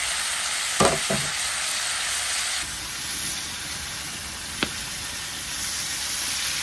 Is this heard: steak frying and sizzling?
yes